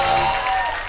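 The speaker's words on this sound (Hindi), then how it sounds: "जोरदार तालियां प्रियंका के लिए" A studio audience at an Indian comedy stage show, The Drama Company, claps loudly and continuously in a brief, dense burst of applause with faint crowd noise.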